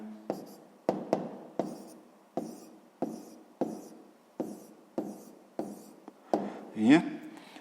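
A pen writes entries into a table on paper, about a dozen quick scratchy strokes in a regular rhythm, close and fairly quiet, with a brief rub near the end.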